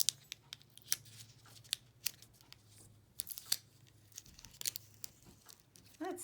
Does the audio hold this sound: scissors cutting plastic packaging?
yes